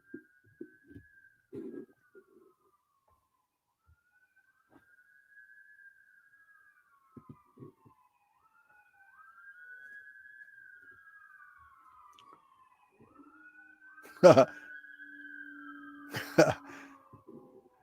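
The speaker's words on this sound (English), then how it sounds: "Man, I hear them sirens." Distant sirens wail faintly in slow rising and falling sweeps, with scattered soft thumps and a couple of sharp nearby knocks toward the end.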